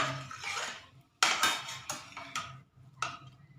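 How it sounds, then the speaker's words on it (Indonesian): A metal utensil scrapes and clinks against a pan while chicken is stirred in sweet soy sauce, giving a few sharp, close, irregular knocks and scrapes with no one speaking. "Aduk sebentar, takut yang bawahnya gosong."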